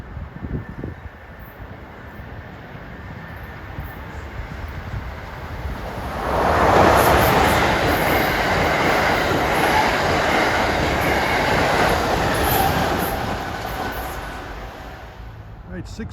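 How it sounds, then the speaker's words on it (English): An Amtrak Acela passenger train passing the station at Mamaroneck, its roar building from a distant rumble into a loud, sustained rush of wheels and air that then slowly fades, with a voice talking faintly underneath. "coming at 6:33 should be Amtrak 2170, the Acela from Washington to Boston."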